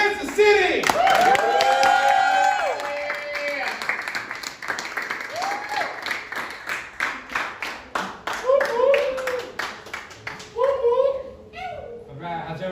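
A comedy club audience bursts into clapping and cheering for a comic taking the stage, loud at first and then fading as a voice talks over the thinning applause.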